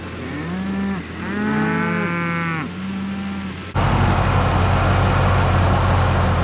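Several cattle on a farm mooing loudly at feeding time, long rising and falling calls overlapping in the first few seconds, followed by a steady broadband rumble of nearby machinery or wind.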